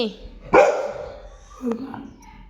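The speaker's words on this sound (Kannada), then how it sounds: "ಇವನೊಬ್ಬ ನಾಯಿ ಬೊಗೋ ಅಂದರೆ ಬೊಗಳ್ತಾನೆ" A dog gives a sharp, loud bark close by, then a softer second bark about a second later, with faint voices in the background.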